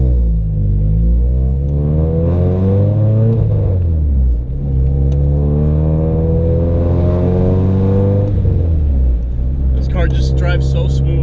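An older car fitted with BBS rims revs and accelerates from inside the cabin, its engine note climbing through several gear shifts in loud, rising sweeps, and a voice comes in near the end.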